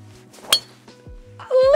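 A sharp metallic clink of a golf driver striking a ball, heard once, loud and close, with quieter rustling and a brief voice afterward.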